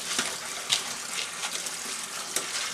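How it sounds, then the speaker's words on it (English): Warm water runs steadily from a tap over airgun pellets in a dish, a continuous hissing splash with small irregular bursts as the stream shifts, close and with no talk. "I run the warm tap"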